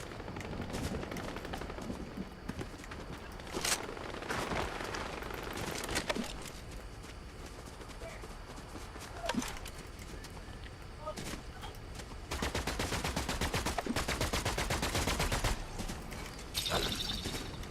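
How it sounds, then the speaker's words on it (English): Gunfire in an online shooter video game, bursts of automatic fire and scattered single shots at varying distances over a steady background, with someone talking over the action at times. "A lot of firing going down."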